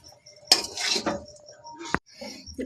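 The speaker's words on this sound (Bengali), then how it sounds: "পাত্রে ঢেলে নিচ্ছি" Chalta pickle poured from a pan into a container, with clinks and scrapes of metal utensils and dishes, a few short knocks and one sharp clatter near the end, close and fairly loud.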